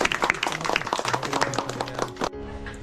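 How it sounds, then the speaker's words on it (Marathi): A small group gives a short round of applause, quick scattered claps for a couple of seconds, close and moderately loud, ending abruptly. "छान मस्त टाळ्या"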